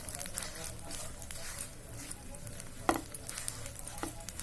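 Modak filling of cardamom and dry fruits sautéing in a pan, a steady close sizzle with soft scraping stirs and a couple of sharper spoon clinks, no voices.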